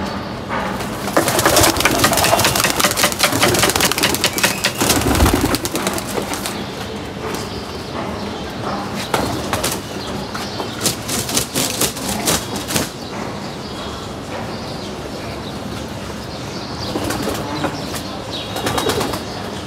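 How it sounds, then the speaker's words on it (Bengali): A flock of pigeons is released to fly, with a burst of wing flapping at first, then repeated cooing and scattered flutters nearby. "এই কবুতরগুলোকে এখন আমরা ছাড়বো উড়ানোর জন্য।"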